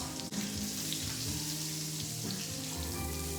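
Ribeye steak sizzling in a pan while being basted with a spoon, a steady close crackle and hiss of hot fat with faint spoon clinks, no talking.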